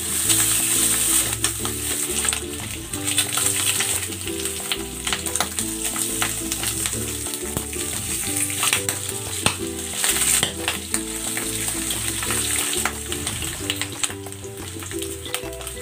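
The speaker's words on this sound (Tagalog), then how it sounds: "Ito na lang natin tustahin sa kawali." Pork belly chips fry crisp in a pan, giving a steady, loud, crackling sizzle with intermittent stirring and scraping close by.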